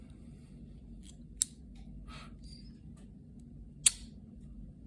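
The scissors on a Victorinox Swiss Army knife snap shut in two sharp, isolated metallic clicks about two seconds apart, close and crisp against a quiet background.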